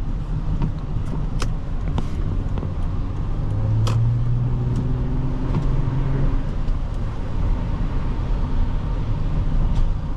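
A 2007 Toyota Avalon Limited's V6 pulls under acceleration, heard from the cabin as a steady low drone and road rumble that swells slightly midway, with faint clicks.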